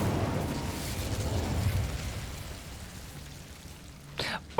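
Hogwarts Legacy's Incendio fire spell gives off a rumbling, crackling rush of flame that slowly fades. Two short bright whooshes and a sharp final snap follow near the end, with no talking.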